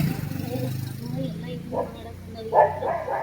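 Dogs bark a few times in short bursts, somewhat distant, over background chatter and the low hum of passing traffic.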